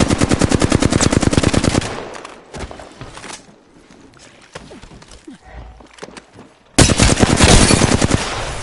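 Rapid automatic gunfire in a squad-based battle royale shooter, with a loud sustained burst at the start, a quieter stretch with scattered distant shots, then another close, heavy burst near the end.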